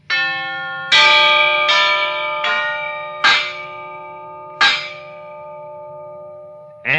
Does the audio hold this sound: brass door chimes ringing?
yes